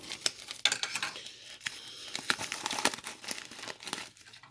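A mailed trading card package is unwrapped with close crinkling and crumpling of plastic and paper, irregular crackles and a few sharper tearing snaps, no talk.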